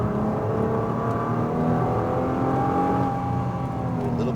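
A 2022 Nissan GT-R pulls hard on a race track at SpeedVegas, its engine a loud, steady, rising drone heard from inside the car with no break through the run.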